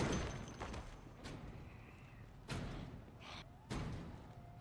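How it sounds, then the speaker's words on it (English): A stuck door being forced in the video game Project Zomboid, heard as three heavy thumps and slams spaced over a few seconds against a low rumbling background, with no talk. "Door's pretty stuck, huh?"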